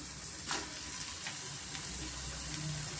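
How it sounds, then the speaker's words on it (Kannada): Mixed vegetables fry in a pan for an instant vegetable dosa, producing a steady soft sizzle with a few light stirring scrapes, fairly quiet and close, with no one talking. "ಸ್ವಲ್ಪ ಮುಕ್ಕಾಲು ಭಾಗ ಆಗೋಷ್ಟು ನಾವು ಫ್ರೈ ಮಾಡ್ಕೊಬೇಕಾಗುತ್ತೆ"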